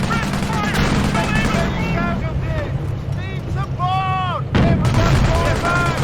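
Gunfire and artillery bursts from the Company of Heroes World War II strategy game, set in Operation Market Garden at Valkenswaard, crackle and boom continuously in a dense battle mix with whistling shells overhead and game unit voices.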